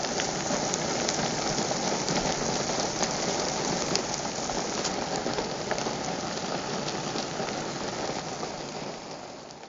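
Two thousand Bubas bison dung beetles dig manure into soil inside a 300-litre storage facility, making a dense, faint crackling hiss of countless tiny ticks and rustles that runs on steadily.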